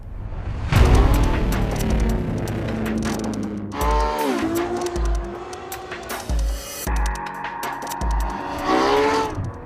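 Ferrari F12 Berlinetta lapping Mazda Raceway Laguna Seca, its loud engine rising and falling through gear changes as tires squeal in repeated bursts through the corners, close and continuous.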